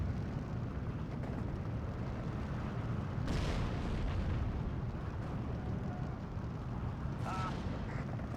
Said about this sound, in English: The Panzerschreck got 2 shots off and hitting 2 hits, taking down both the armored vehicles in the area.